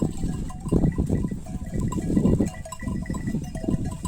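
A flock of sheep out at pasture with young Kangal dogs, bleating and milling close by in a continuous jumble of animal calls.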